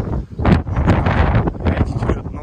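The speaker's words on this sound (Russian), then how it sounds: "Очень сильный ветер дует уже несколько дней в Стамбуле, в этой части." Strong, gusty wind blowing in Istanbul near the old city walls and the sea, roaring steadily into the microphone with a constant buffeting rumble and no speech.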